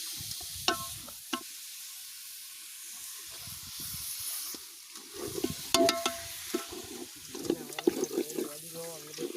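Water pours and sizzles into a hot pan of mutton chukka cooking outdoors in a brinjal garden, a hissing rush of steam and bubbling with scattered clinks and stirring scrapes, and voices talking now and then.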